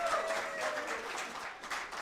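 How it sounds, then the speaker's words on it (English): Audience applauding three game winners at an event, a steady wash of clapping from a crowd, moderately loud and continuous, with a faint voice underneath. "Let's get a round of applause for our 3 winners."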